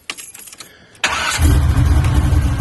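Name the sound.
car engine starting with new exhaust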